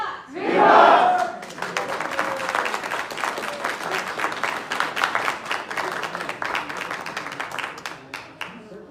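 A crowd at an evening court gathering of a medieval reenactment society bursts into loud cheering and sustained clapping after a shouted salute, the applause dense and continuous before gradually thinning out.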